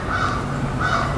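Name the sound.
crows calling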